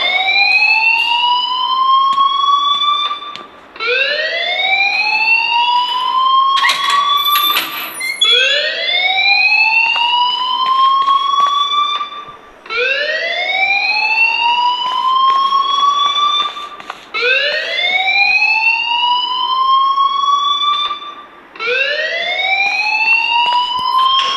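An electronic alarm in the video game Life is Strange blares loudly, repeating rising whooping sweeps in a regular cycle of about four seconds each, with brief gaps between bursts and no talking.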